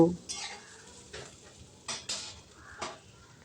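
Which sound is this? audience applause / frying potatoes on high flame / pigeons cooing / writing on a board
frying potatoes on high flame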